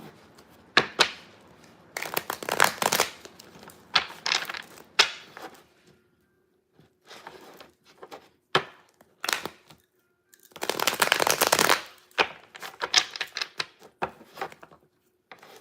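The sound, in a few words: shuffling a deck of cards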